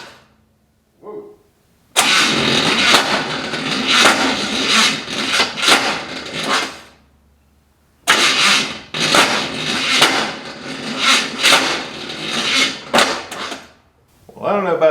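A 1980 Chevy C10 truck's engine is cranked twice, each time a loud, rough churning burst lasting several seconds before cutting off, with a short pause in between; close and harsh, with no talk over it.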